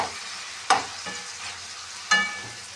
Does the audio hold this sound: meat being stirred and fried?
yes